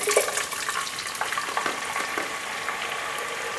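Ground spice paste is tipped into a cooking pot for a broad bean curry, giving a close wet sloshing and sizzling, with irregular splashy bursts over a steady hiss.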